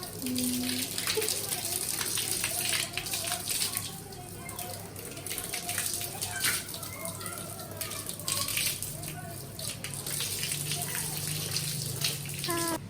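Water runs steadily from a pipe during household washing, a continuous splashing gush with faint clatter over the whole stretch, with someone talking over it at times.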